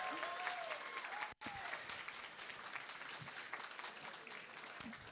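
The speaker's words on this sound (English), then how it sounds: "Can we please clap?" Audience applause at the SPA National Awards ceremony in Exeter, Devon: a dense, sustained clapping crowd filling the room, with a brief voice and a momentary dropout early on.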